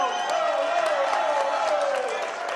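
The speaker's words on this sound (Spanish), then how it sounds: "¡Aplauso para los muchachos!" Studio audience applauding guests on a live midday talk show, a dense steady wash of clapping and crowd noise filling the whole stretch with a host's voice running over it.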